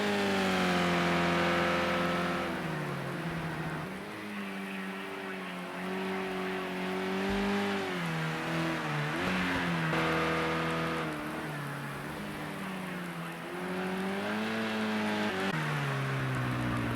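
Race cars in the Project Cars 2 racing game on Xbox, engines droning and revving steadily with rising and falling pitch through gear changes, loud and continuous throughout without talk.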